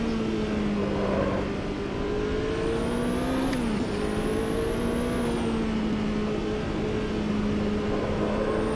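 A Formula 1 car in the Automobilista 2 racing game holds a steady, loud engine drone, with a brief pitch dip around the midpoint as it shifts, then resumes the constant high-revving whine.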